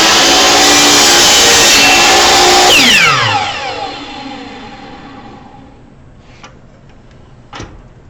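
A power saw cutting a clamped small workpiece: a loud, steady, whining motor roar that winds down with a falling pitch as the blade coasts to a stop, followed by a couple of faint clicks.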